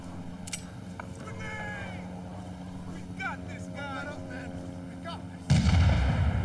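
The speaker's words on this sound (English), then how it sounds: "Grenade took a while to explode." A grenade going off in the Vietnam War shooter Rising Storm 2: Vietnam, a sudden loud, heavy blast near the end following a stretch of battlefield ambience with distant chatter and whistling sounds.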